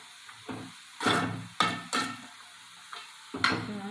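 Papaya kootu being stirred in a pan, giving several separate bursts of scraping and wet mixing with short pauses between them, close and fairly loud with no talking.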